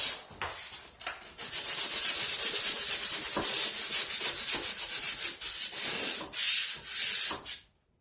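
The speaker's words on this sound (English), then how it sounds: "I'm just going to sand this, alright? Now this is a 80 grit sandpaper" Rough, steady rubbing as 80 grit sandpaper works the edge of a marble tile, close and loud in continuous strokes with brief pauses, ending abruptly.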